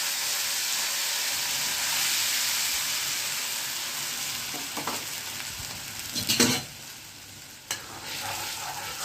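Green and dried chillies with asafoetida sizzling in hot oil, a steady close hiss of frying interrupted by a couple of brief utensil clatters, with no talking.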